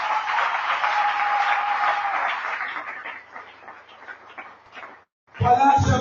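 A church congregation applauds, a dense, steady clapping that thins and fades over several seconds before a voice speaks at the end.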